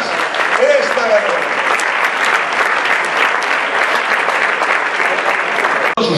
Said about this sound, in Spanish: fuerte el aplauso para los finalistas de esta noche